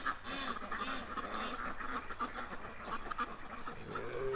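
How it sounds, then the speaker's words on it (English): Ducks quack repeatedly in a busy, overlapping chorus, fairly close, with steady background noise. "In you go, ducks."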